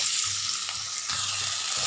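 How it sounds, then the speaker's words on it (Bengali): Potato pieces frying in oil with nigella seeds, a steady close sizzle with faint stirring scrapes, no voices. "এদিকে তো ওই তেলেই কালো জিরে দিয়ে আলুটাকে আগে ভেজে নেবো হালকা করে"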